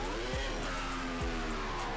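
A Mercedes-AMG Project One hypercar in Roblox drives with a loud, steady engine roar and rising pitch. Two quick gear-shift drops break the rev, with a high, buzzing whine layered over the drone.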